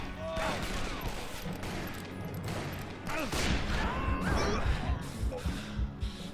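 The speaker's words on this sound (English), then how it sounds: "You don't gotta shoot each sumbitch 5 times" Rapid volleys of gunfire crackle through a Wild West shootout in Call of Juarez: Bound in Blood, dense overlapping shots and impacts filling the scene with no pauses, loud and close throughout.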